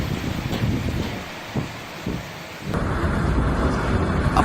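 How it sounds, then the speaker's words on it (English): A thunderstorm with heavy rain: a dense, steady roar of downpour, with low thunder rumbles building and swelling midway before the rain intensifies again, loud and close with no voices. "The heavy storm turned the sky white with heavy rain."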